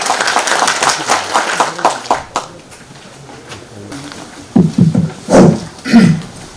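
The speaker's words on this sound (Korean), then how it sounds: "박수로 환영해 주세요." An audience at an academic conference applauds to welcome a speaker: dense clapping at first that thins out and fades, followed by a voice speaking near the microphone.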